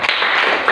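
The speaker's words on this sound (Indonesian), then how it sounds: "tepuk tangan anak-anak" Children in a classroom clap their hands in a brief, dense burst of applause, fairly loud and close, lasting under a second.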